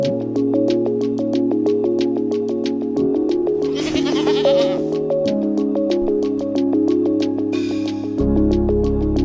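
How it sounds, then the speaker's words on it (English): Goats and kids bleating at a local farm near Sarayshyk in Atyrau, Kazakhstan, with repeated close, loud calls over a steady droning hum and no talk. "at a local farm as I showed earlier, we saw goats and kids."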